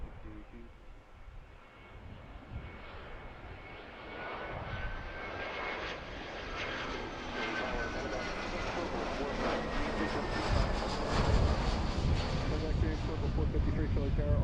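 An Airbus A319 takes off from runway 27 left at Philadelphia International Airport, its jet engine roar building steadily from moderate to loud and sustained, with a rising whine, heard from a distance outdoors.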